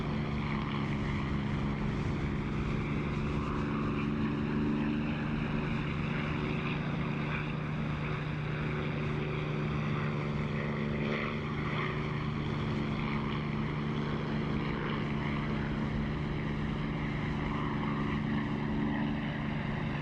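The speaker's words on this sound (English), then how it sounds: "Lovely phasing effect from the prop wash that you get with the canopy open." Propeller aircraft engine heard from the cockpit in the DCS flight simulator with the canopy open, a steady loud droning hum with prop-wash phasing rolling through it, continuous for the whole stretch.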